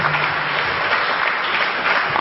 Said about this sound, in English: Give these brothers a round of applause.